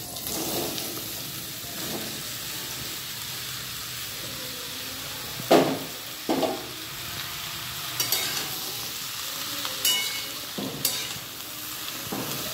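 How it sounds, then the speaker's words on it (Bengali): Mango pieces and fried chillies are stirred in a wok, giving a soft steady sizzle broken by several sharp scraping clatters of the spatula, with no talk. "কয়েকবার জাস্ট কড়াইয়ের মতো ভালোভাবে নেড়ে নেবো আমটাকে।"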